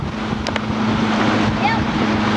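A motorboat engine hums steadily amid wind buffeting and splashing water, with faint voices in the background.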